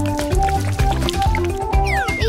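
Pink strawberry milkshake, blended from strawberries and milk, poured into a glass; the liquid gurgles steadily under louder background music.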